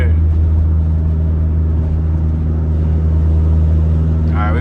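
A Honda Accord with a six-speed manual transmission drones at steady throttle while driving, a loud, even low engine hum that holds throughout, with a voice briefly at the end.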